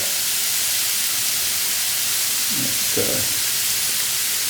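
Ingredients for ragù alla bolognese sautéing in a pan, a steady soft sizzle and hiss throughout with a couple of brief stirring bumps near the end.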